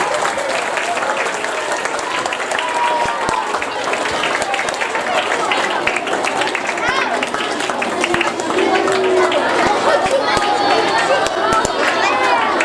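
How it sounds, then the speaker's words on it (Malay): School pupils applauding a speaker at a Maulidur Rasul school assembly, sustained dense clapping from a large crowd throughout, loud and steady with faint chatter underneath. "berikan tepukan kepada penceramah kita pada pagi ini"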